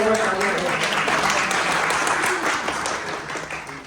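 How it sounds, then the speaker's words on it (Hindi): A crowd at a retirement party applauds steadily, a dense wash of clapping that carries on throughout with some voices mixed in. "तालियां"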